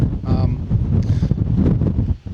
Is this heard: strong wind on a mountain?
yes